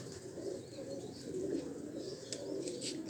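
Pigeons being readied for a tournament coo softly in low, throaty bursts, several birds murmuring together at close range with faint chirps above.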